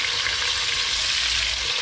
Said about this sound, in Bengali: so the idea is two fry the chickens first